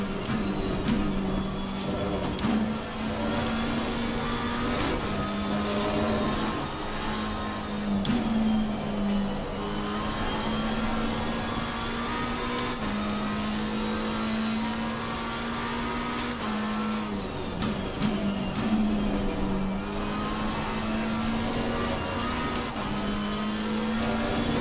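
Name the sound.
race car engines in racing video game Assetto Corsa Competizione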